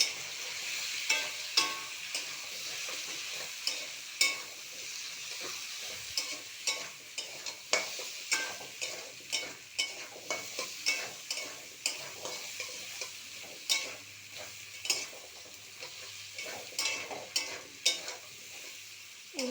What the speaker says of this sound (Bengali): এইভাবে একটু নেড়ে নেড়ে